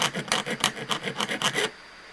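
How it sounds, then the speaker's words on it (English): A hand file rasps against small sterling silver pieces in about nine quick, even back-and-forth strokes, close and crisp, then stops into quiet. "So I'll just keep filing this down until I have the right shape."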